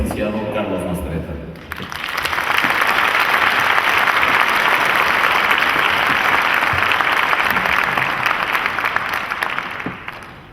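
Warm audience applause at a business conference at Universidad de las Américas Puebla welcomes a guest speaker: loud, sustained clapping from a large crowd that follows a brief voice and fades slightly at the end.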